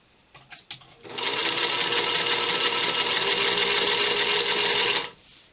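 A sewing machine runs in one steady burst of about four seconds while chain piecing quilt blocks, preceded by a few short clicks and handling sounds, close and loud with no voices.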